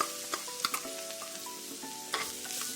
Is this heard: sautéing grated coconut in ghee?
yes